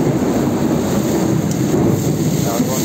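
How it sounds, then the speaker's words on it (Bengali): A lightning storm during home cooking brings a continuous loud, low rumble of thunder blended with steady rain and a faint wind wash, with no distinct separate claps. "এখন কিন্তু প্রচণ্ড পরিমাণে বিদ্যুৎ চমকাচ্ছে"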